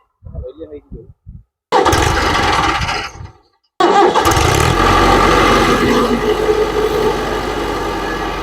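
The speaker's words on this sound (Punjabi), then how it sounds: "ਅਰਜਨ ਟਰੈਕਟਰ ਦੇਖੋ ਹੁਣ ਖੜਦਾ" An Arjun tractor hitched to a trolley fully loaded with sand starts up: a loud burst of engine noise cuts off, then the engine catches and runs steadily with a heavy low rumble. People may be talking over it.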